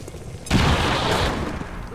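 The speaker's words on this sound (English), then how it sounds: "Throwing grenade! Frag out." Grenade blast in the video game XCOM 2, a sudden heavy boom followed by a sustained noisy roar of debris that fades slowly, with a voice audible in the background.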